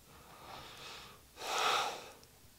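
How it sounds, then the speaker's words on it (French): One long, slow exhale is drawn out during a vinyasa detox yoga flow. A softer breath comes first, then a fuller rushing breath that fades away, close and quiet with no talking. "Longue respiration."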